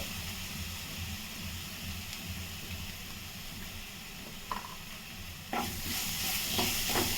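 Maharashtrian batata vada filling with ground masala paste is sautéed in a little oil, a spatula scraping and stirring over a soft sizzle that grows louder and brighter partway through.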